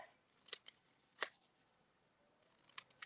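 Scissors fussy cutting a paper sentiment for a handmade card, a few sparse, crisp snips spaced irregularly in a quiet room.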